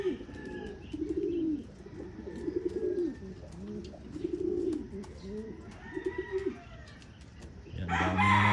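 Domestic pigeons cooing in a loft, with Borga calling loudly and repeatedly in rhythmic throaty bursts close by, other birds softer in the background and a louder rustle at the end.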